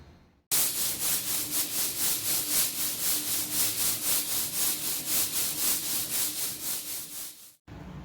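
A sealed hardwood floor is scuffed before recoating with poly, a loud close rhythmic rasping of abrasive strokes, roughly three per second, running steadily for about seven seconds.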